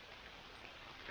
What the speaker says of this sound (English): and now it's raining harder